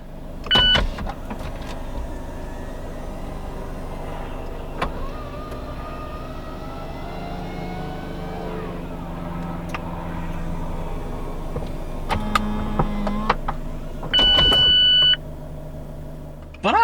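A Mazda MX-5 RF's retractable hard roof works through its cycle with a steady electric motor whir, mechanical clunks and a few sharp beeps, with someone talking over it close by.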